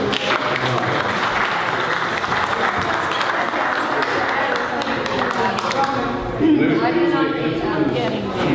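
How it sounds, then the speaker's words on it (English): A crowd at a Democratic club meeting applauds steadily throughout, a dense wash of clapping with chatter mixed in, swelling slightly near the end. "How about a round of applause for Diane and Don?"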